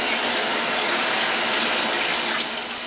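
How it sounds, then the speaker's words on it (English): Tap water runs steadily into a bottle while an apple cider vinegar rinse is mixed, a continuous close gush with no voices. "So the rest of this I'm just going to fill up with water."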